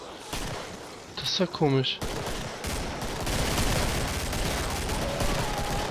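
Rifle fire in the video game Killing Floor comes as repeated, rapid gunshots in dense bursts throughout, loud and close, with someone briefly speaking over the shooting.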